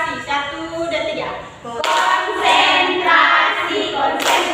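A group claps through a concentration rhythm game, with tapping beats and bursts of hand claps mixed with speaking voices that run under the rhythm.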